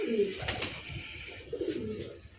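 A domestic pigeon in a breeder's loft gives two soft, throaty coos close by, with faint background rustling between them.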